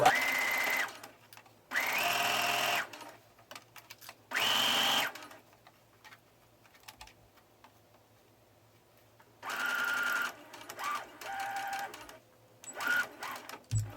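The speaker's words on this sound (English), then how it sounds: "Begin sewing, back stitch, and continue sewing until you get to the other end." A home sewing machine stitches a 5/8-inch shoulder seam on a bishop-sleeve top, running in several loud bursts with pauses between, including a brief backstitch, with no talking over it.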